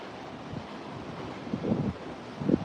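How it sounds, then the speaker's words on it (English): Surf crashing at the Moss Beach tide pools in the Fitzgerald Marine Reserve, a steady low wash under wind noise with two louder surges near the end, no voices. "And you got cormorants flying by, and lots of crashing waves."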